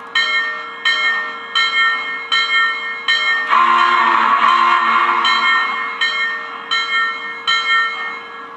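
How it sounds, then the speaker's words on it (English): A model train locomotive bell plays from an Electric Railroad Company sound and control module, ringing in a steady repeated clang, loud and close, with a brief louder burst of mixed sound partway through. "Try the bell."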